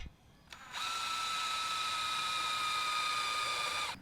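A power drill bores a pilot hole, smaller than the lag bolt, while building a window well for a house remodel, with a short start, then a steady high whine running about three seconds before cutting off.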